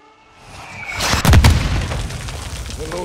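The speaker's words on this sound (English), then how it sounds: "Launching mortars" A mortar explosion in the video game Call of Duty: Modern Warfare II lands as one deep, rumbling boom, then a fading roar of debris.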